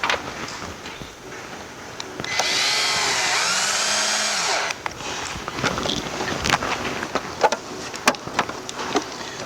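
A power drill whirs for about two seconds, driving a screw into the car body of a 2012 Mustang 5.0 custom project. It comes through fairly loud and steady over workshop clatter, and small knocks and taps follow afterward.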